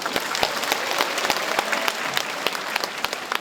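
An indoor audience at a talk concert marking a city administration's second anniversary, packed up to a second-floor balcony, breaks into sustained applause: dense, steady clapping throughout with sharper individual claps popping out, no voices.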